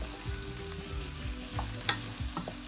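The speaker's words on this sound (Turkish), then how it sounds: "kavuruyoruz. Fakat bu aşamada iyice karıştırmamız lazım." Flour roasts with red lentils and vegetables in a pot for lentil soup while being stirred, a faint continuous sizzle with light scraping taps of the spoon and a steady low hum behind.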